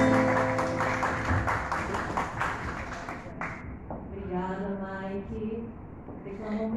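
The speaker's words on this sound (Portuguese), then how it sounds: "E uma salva de palmas para todos nós que estão aqui." An audience at a poetry soirée claps in a dense, fairly loud burst that fades after a few seconds, followed by a voice with sustained tonal sound.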